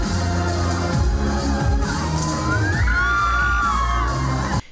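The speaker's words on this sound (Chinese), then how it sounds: "一段武术惹得全场欢呼声不断" Loud indoor crowd cheering, whooping and yelling throughout at a martial arts performance during a children's singing show recording, with sharp bangs and rising shouts, cutting off abruptly at the end.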